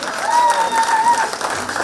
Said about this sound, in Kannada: ಅದಕ್ಕೆ ಭಾರಿ ದೊಡ್ಡ ಚಪ್ಪಾಳೆ ಮಾಡಿ ಇದೆ